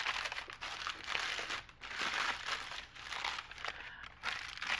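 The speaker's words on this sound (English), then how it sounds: "But you'll be able to still hear me crumpling the paper." Sheet paper crumpled by hand, close and fairly quiet, a continuous crinkling and crunching that swells and eases in several waves with brief pauses, heard alone without talk.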